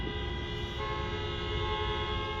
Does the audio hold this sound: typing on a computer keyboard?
no